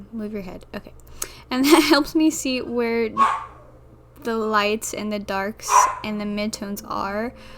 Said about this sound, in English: you might be able to hear my dog crying in the background